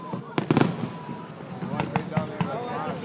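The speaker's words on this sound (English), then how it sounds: "There's fireworks." Fireworks burst at an outdoor display, a quick cluster of sharp cracks followed by scattered booms of varying distance, with people talking throughout.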